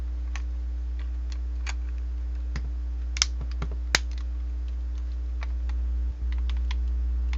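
Xbox One controller parts snapped back into place during a gimbal repair: a scattered series of small plastic clicks and taps up close, a couple of them sharper, over a constant low electrical hum.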